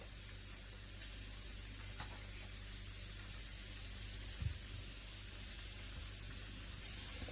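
Fried eggs are laid into dhaba-style masala on a hot tava, giving a steady, soft sizzle and hiss that runs throughout with a few faint clinks, no voices over it.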